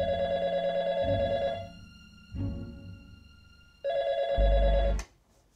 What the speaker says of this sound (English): when the phone rings, I like to take my time picking it up